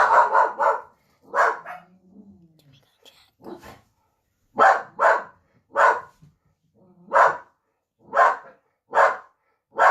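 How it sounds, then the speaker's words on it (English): A dog barking indoors in short, sharp bursts, repeated several times close by, with a soft, low voice heard faintly between the barks. "Sorry about my dog."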